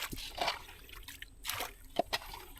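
Water being scooped into a container on a small boat: a few quiet, irregular trickles, drips and sloshes in short bursts, close to the microphone.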